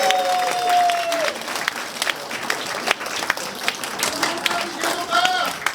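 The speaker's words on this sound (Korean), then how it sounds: "다시 한번 큰 박수 부탁드리겠습니다" An audience at a campaign office opening claps together, a dense burst of applause that swells and then thins into scattered claps, with a voice speaking over part of it.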